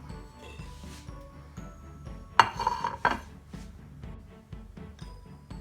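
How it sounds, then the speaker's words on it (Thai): Curry paste ingredients pounded in a stone mortar for Thai lockdown steamed chicken, giving repeated dull thuds with a few sharper clattering knocks midway, close and moderately loud with no talking. "เราก็จะเอาเครื่องทั้งหมดนะครับ ใส่ในครกนะครับแล้วก็ โขลกนะครับ"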